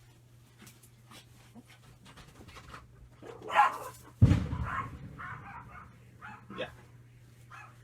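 A dog pants and whimpers softly nearby, then lets out one sharp bark followed by a few short yips, over a faint steady hum with a brief spoken word.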